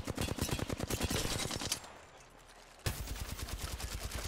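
Rapid automatic gunfire from a gun in the video game Apex Legends rattles in fast, even bursts, cuts off into a brief near-silent pause, then resumes just as loud and steady.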